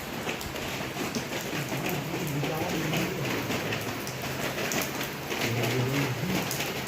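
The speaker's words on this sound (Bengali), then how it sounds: "সমানে বৃষ্টি হয়ে যাচ্ছে" Steady rain pours down on an evening during the monsoon month, a dense, even hiss of drops on surfaces that stays loud and unbroken from start to finish.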